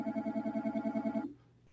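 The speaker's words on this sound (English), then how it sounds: "That's interesting, phone call." A phone ringtone for an incoming call trills in rapid repeated pulses for about a second and a quarter, then cuts off, leaving faint room noise; no one speaks over it.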